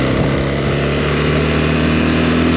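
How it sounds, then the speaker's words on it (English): Steady, loud wind roar and engine drone while riding a BMW R1300GS motorcycle on a motorway, continuous and close with no talk. "I know there's loads of wind noise"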